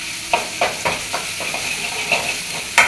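Ginger garlic paste, curry leaves and green chillies are sautéed in a pan for a Madurai chicken gravy, a constant sizzle broken by six or seven sharp stirring scrapes with no talk.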